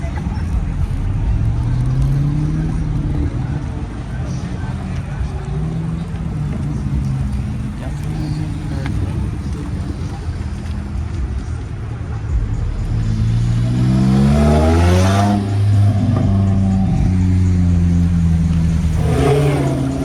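Cars rumble and idle at a busy nighttime car meet. One engine revs up loudly near the end, climbing in pitch, over a steady crowd murmur with voices talking.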